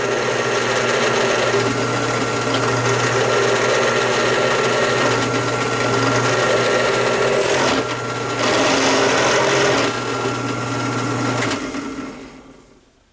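Steady, close drilling whine as a broken tap is peck drilled out, with brief dips around the middle where the bit eases off, then the motor winds down at the end.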